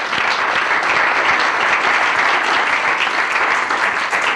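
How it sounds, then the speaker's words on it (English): A lecture audience at a university course on the judiciary and courts gives a steady, dense round of clapping that holds evenly for several seconds with no voice over it. "Round of applause, please."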